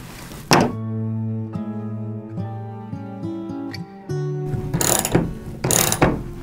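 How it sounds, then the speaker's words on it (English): Ratchet wrench clicking as it drives a lag bolt into a wall stud while a full-motion TV mount is installed, with steady runs of close, loud clicks and several brief pauses and thuds. "Let's level it out before we finish driving in the bottom lag bolt."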